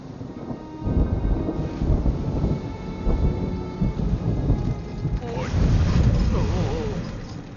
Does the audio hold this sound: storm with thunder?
yes